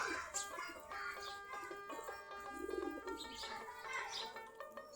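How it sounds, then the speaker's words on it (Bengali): Local domestic pigeons in a loft flock give soft, repeated cooing calls mixed with scattered chirps, moderately close and steady throughout with no talking. "আমাদের সবগুলাই দেশি কবুতর।"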